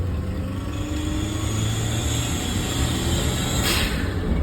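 Daihatsu Mira engine revving close by, a low rumbling drone that swells and holds steady over a few seconds, with a faint high squeal riding on top, no talking.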